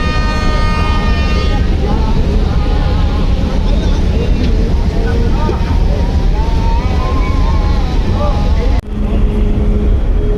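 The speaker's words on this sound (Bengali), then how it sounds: "কুয়াকাটা 2 লঞ্চটি যাচ্ছে।" The passenger launch Kuakata 2 passing on a river among many other launches, a loud, close, continuous engine drone with steady tonal hum and a sounding horn, while a person speaks over it.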